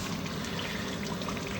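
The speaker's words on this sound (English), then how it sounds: "I would put a little bit more of water in, because I'm going to put it on high heat" Water is poured into a pot of lamb curry on the stove, giving a steady, close pouring and trickling wash that runs unbroken through the short moment with no voices.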